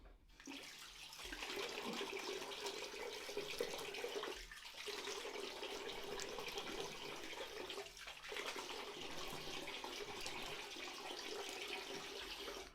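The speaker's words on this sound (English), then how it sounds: "Now I'm going to rinse it with cold water." Steady running cold tap water splashes continuously, broken by two brief pauses as hands dip under the flow to rinse a face after shaving, close by and fairly loud.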